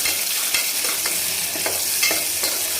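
Chopped onion sautéed with peppercorns and cloves gives a steady, loud sizzle, broken by a few soft stirring scrapes in the pan.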